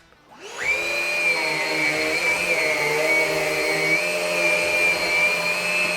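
A Henry Quick bagged cordless stick vacuum cleaner on regular suction starts up and runs with a steady high-pitched whine and airy roar, loud and close, holding even for several seconds with no voices.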